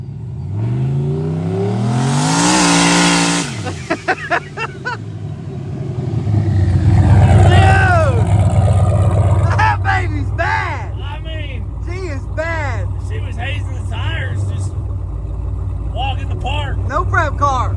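A no-prep drag race car revs hard and accelerates down the track, a loud rising engine roar up close, then dropping away; excited voices talk over the engine noise for much of the time.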